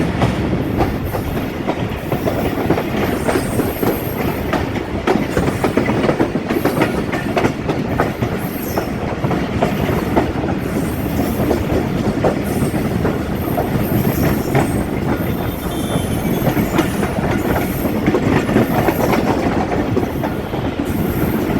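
A moving passenger train on the Sadiqabad to Bahawalpur line in Pakistan, heard from a carriage footboard: steady loud rumble and rhythmic wheel clatter fill the whole span, with occasional faint squeals and no talk.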